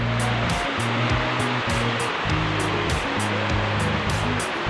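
Floodwater pouring over a spillway in Bua Chet district after a storm, a loud continuous roaring rush close by, with no talk.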